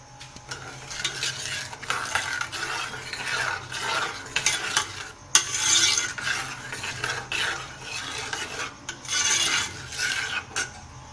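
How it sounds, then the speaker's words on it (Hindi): Tomato chilli garlic sauce with sugar, vinegar and salt cooks on low heat while a spoon scrapes and stirs the pan in repeated bursts, with a gentle sizzle underneath and no speech. "थोड़ा हल्की आंच पे हम इसको पकाएंगे।"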